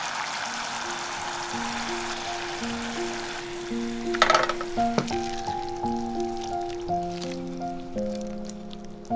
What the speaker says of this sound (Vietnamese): cho gà vừa chiên giòn vào và rưới nước sốt nóng hổi lên